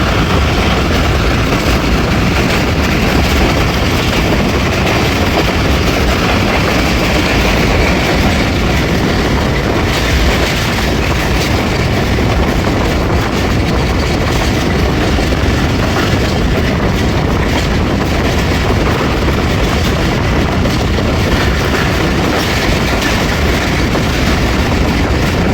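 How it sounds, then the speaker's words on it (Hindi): The 8 Down Tezgam Express passing through on the Rawalpindi to Lahore line, a loud, sustained roar of wheels and carriages with rumbling clatter that holds steady throughout, no voices. "चिस्पन और पकड़ाला से पास थ्रू हो रही है एट डाउन तेज़गाम।"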